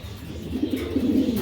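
Pigeons coo close by in a low, rolling, continuous murmur that swells slightly toward the end, alone without voices.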